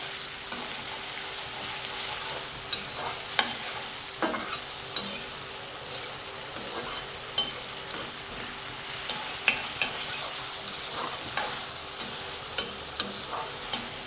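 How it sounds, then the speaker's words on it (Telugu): Potato pieces fry steadily in a pan for sabudana khichdi, a continuous close sizzle broken by occasional sharp clicks and scrapes of a spoon stirring. "ఇది ఆలుగడ్డని ఫ్రై కావాలి మంచిగా."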